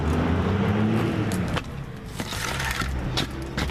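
Wooden blocks are kicked into place in front of a car's back tires, giving a few soft, dull knocks and scuffs close by over a low, steady background rumble, with no talking.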